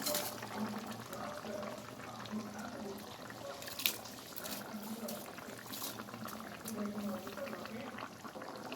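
Water with rice, salt and lemon boils steadily in a pot for Chettinad chicken biryani, a continuous close bubbling with one brief clink partway through. A voice is faintly present in the background.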